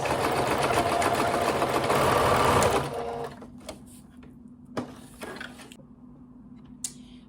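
Sewing machine stitching a French seam on a garment, running steadily and loudly for about three seconds, then stopping, followed by a few faint clicks and handling sounds.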